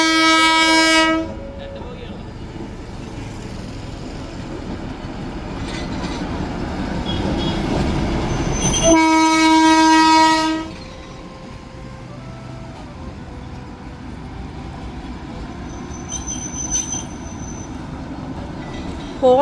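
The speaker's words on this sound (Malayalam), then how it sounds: "അവിടെ ഞങ്ങൾ നിൽക്കുമ്പോഴാണ് നമ്മുടെ ടോയ് ട്രെയിൻ വരുന്നത്." The Darjeeling toy train passes through forest near Kurseong, sounding a loud, sustained horn blast at the start and a second one midway. Between and after the blasts, the rumble and clatter of the passing carriages and squealing wheels continue close by.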